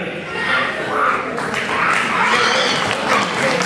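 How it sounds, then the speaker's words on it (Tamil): Audience applause for certificate recipients at an exam acknowledgment ceremony, a steady broadband wash of many hands clapping that stays fairly even throughout, with some background voices mixed in. "இந்த சான்றிதழை பெற்ற அனைவருக்கும் மீண்டும் ஒரு முறை உங்கள் அன்பு கரகோஷத்தை அள்ளி வணங்குங்கள்"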